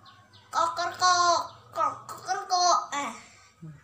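A young child imitates a rooster crowing during a kindergarten home activity, producing a close, high-pitched run of drawn-out, rising and falling vocal syllables.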